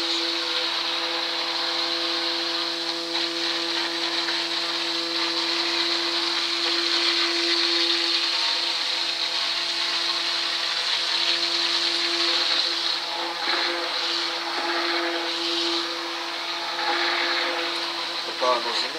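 An electric mixer whirs steadily as Spanish olive oil is blended with lye to make soap, a loud, constant motor whine that runs without a break.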